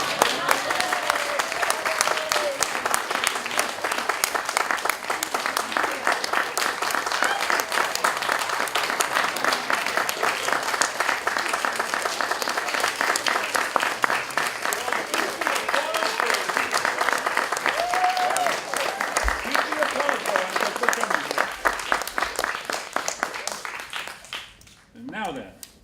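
Sustained audience applause at an onstage event, a dense and even wash of clapping that holds for over twenty seconds before tapering off. A voice talks faintly over it.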